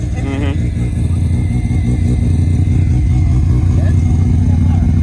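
Small-turbo car engine growling loudly as it accelerates under boost, a steady close, heavy low rumble that fills the whole stretch without a break.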